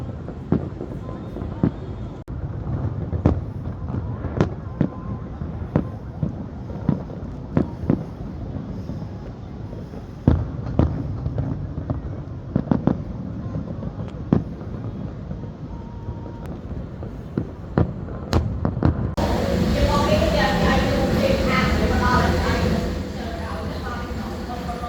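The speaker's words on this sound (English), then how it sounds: "that's fireworks" Fireworks burst at a resort on a Cambodian island, sharp pops and booms scattered irregularly across the scene, some near and loud, others fainter, over steady wind and background noise, with a louder noisy wash at the end.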